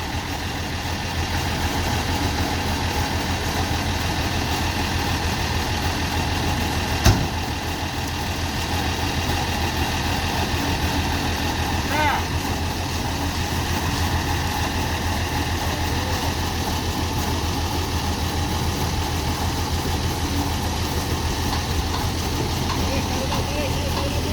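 A tow truck's engine labours steadily while towing on the steep Kedabuhan uphill, a continuous low rumbling drone with a brief knock partway through, under background noise.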